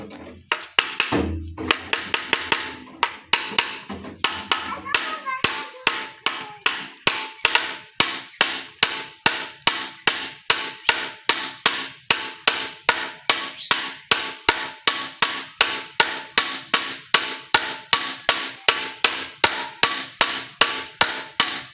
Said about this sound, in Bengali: এভাবে আপনারা টুকে টুকে এটা ভিতরে পুশ করিয়ে নেবেন।